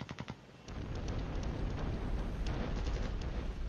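Mortar fire in the Flash Point Campaigns: Southern Storm wargame, opening with a few quick thumps before a sustained rumbling roar of explosions that rolls on steadily at moderate loudness, with no voices.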